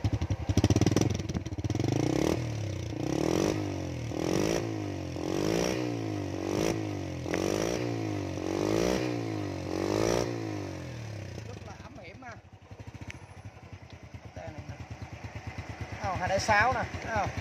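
A Thai-built 2006 Honda Wave S 100 motorcycle engine runs with a rhythmic, pulsing clatter from the clutch as it revs up and down repeatedly, close by, while someone talks over it.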